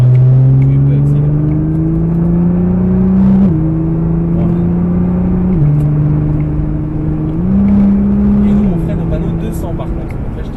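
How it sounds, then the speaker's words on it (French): A Nissan GT-R accelerating on a track at Issoire, its engine tone rising in steady steps with each gear change, heard from inside the car over a continuous loud drone, with speech present. "Donc là une fois que tu es en bien droite, tu peux accélérer."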